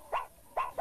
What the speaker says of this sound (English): and finally they start to bark.